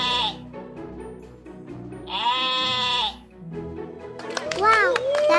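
Sheep bleating in an animal guessing game for children: three loud, wavering bleats, each about a second long, close up, with a short gap between them.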